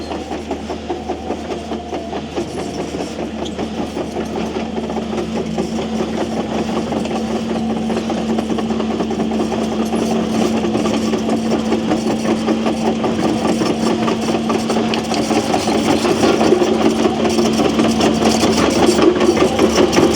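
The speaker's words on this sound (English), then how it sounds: "Here it's a bit noisy as I'm basically seeing where the digger is going." A digger's diesel engine running close by at a canal breach, a loud continuous rumble with a steady hum and rattling clatter that grows slightly louder toward the end.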